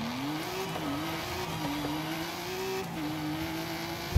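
A Ford Transit van drives steadily in Forza Horizon 5, its engine droning and shifting pitch through gear changes at moderate volume, with no voices over it.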